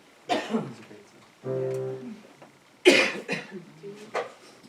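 A couple of close coughs and throat-clearing bursts among speech, with a brief held vocal tone in between.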